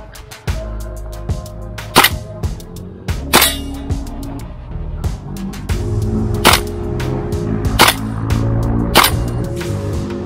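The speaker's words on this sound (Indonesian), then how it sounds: "Ini 10 meter. Kita tembak di mode single." An airsoft or replica gun fires single shots with a flash hider at 10 meters on a neighborhood football field, sharp separate cracks at irregular intervals over a steady mechanical hum, several loud close reports.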